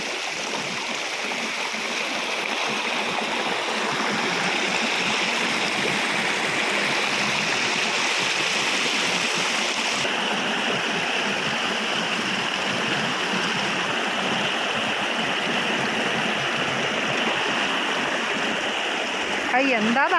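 A swollen stream in Wayanad rushes during intense rain, a steady, full-bodied roar of flowing water that stays loud and unbroken throughout.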